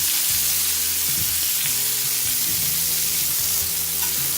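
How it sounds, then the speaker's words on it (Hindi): Onions dropped into hot oil on a tawa, a loud, steady, close sizzle that fills the whole clip with dense hiss and no talking. "मैंने तवा रख दिया है और तेल गरम भी हो गया। तो सबसे पहले इसमें हम प्याज डाल देते हैं।"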